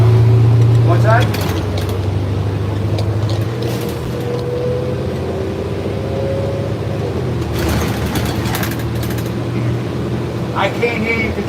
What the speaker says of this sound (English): I can't hear you because the bus is making too much noise.